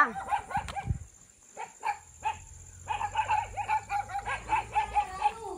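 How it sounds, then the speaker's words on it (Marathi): Small village dogs in Malwan bark in quick, rhythmic volleys, sharp and fairly close, with a brief pause before the barking resumes steadily. "आवाज केवढा त्या कुत्र्यांचा"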